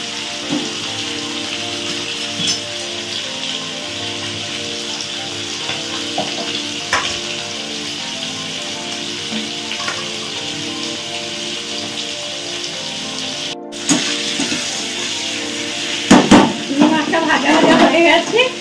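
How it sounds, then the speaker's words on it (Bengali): Prawns and bori lentil dumplings sizzle in hot oil for a Bengali gandal-leaf curry, with a continuous dense crackle like rain. A short break comes near the end, then louder spattering and stirring. "বড়ি আর চিংড়ি মাছ আমি ভেজে নেব।"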